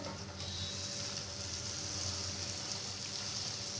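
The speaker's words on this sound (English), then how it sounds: "So make sure you're cooking your malpuas on medium flame basically" Malpua batter sizzles steadily in a pan of hot oil over a low gas flame, a soft continuous crackle with no break and no voices.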